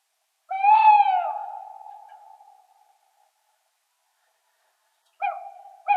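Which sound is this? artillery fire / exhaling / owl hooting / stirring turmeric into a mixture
owl hooting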